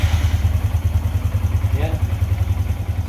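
Yamaha Sniper motorcycle with an Error 46 regulator fault on jump start, engine running at a steady throbbing idle with rhythmic low pulses and light clatter, close by, a brief word spoken over it.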